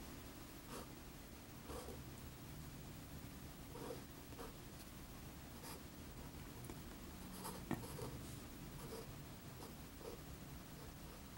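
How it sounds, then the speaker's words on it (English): A pencil sketches on paper during gesture drawing, making quick soft scratching strokes in irregular short bursts, close and faint against a low background hiss. "See what I'm doing? I'm drawing a part at a time."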